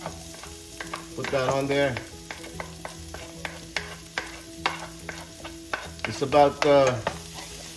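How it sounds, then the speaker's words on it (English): Garlic sautés with pork in a hot pan: a continuous low sizzle with repeated scraping stirs and two louder frying bursts, while a person talks briefly. "let's start sauteing our garlic too"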